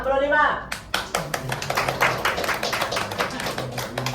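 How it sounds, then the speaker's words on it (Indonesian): A crowd claps in scattered, uneven bursts after a brief voice, the applause moderately loud and continuing to the end. "Lemes ya, tepuk tangannya ya."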